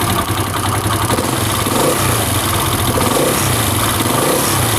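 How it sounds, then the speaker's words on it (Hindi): A Honda CD70 motorcycle engine, repaired after a cam sprocket noise problem, revs loudly and steadily up close, a continuous throaty drone with slight rises and falls throughout. "रेस दे के छोड़े ज़रा, रेस दे के एक दफ़ा।"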